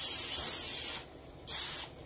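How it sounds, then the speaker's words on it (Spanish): Olive oil cooking spray hisses from an aerosol can in a kitchen over an aluminium baking pan, two close bursts, the first longer, separated by a short pause. "esprayarlo con aerosol de olivo"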